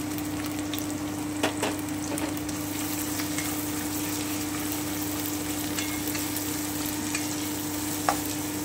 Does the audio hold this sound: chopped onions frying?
yes